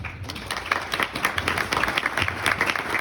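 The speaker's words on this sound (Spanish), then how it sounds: "el aplauso para la mesa" Audience applause for a panel at the close of a participatory conference session, a steady mass of clapping from many hands, fairly close and continuous.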